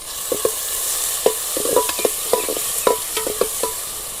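Chilies, cumin and curry leaves fry in hot oil for a Gujarati dry potato dish, with soft sizzling under repeated sharp scrapes and taps of a spoon stirring the pan, close by.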